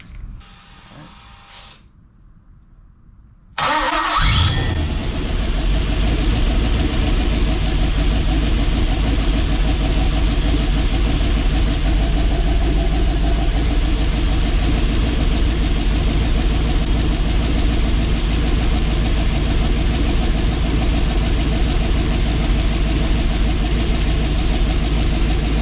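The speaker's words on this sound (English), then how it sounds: "That is the engine started up." An LS V8 engine on a run stand cranks and fires after a quiet pause, then settles into a loud, steady idle that runs on without a break.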